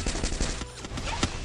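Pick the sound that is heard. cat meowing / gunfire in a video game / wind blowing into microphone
gunfire in a video game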